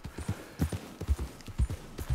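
Horse hooves clip-clop in a steady rhythm as a rider travels in the video game Red Dead Redemption 2, with close, moderately loud footfalls.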